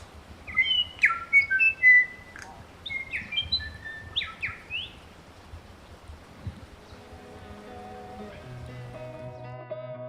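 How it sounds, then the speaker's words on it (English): Parakeet calls in a New Zealand forest, a run of sharp chirping and whistled notes in the first half over quiet background, with other birds singing more softly afterward, including a whistling bellbird. "Just heard a parakeet not too far away actually"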